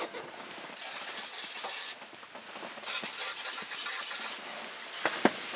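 Several bursts of PB Blaster penetrating oil sprayed from an aerosol can onto a rusty car starter on a bench, hissing sprays of about a second each separated by short pauses, close and clear with no talking.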